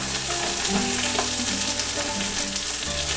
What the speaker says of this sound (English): I'm going to start with the ground turkey in here also. Let it cook with it.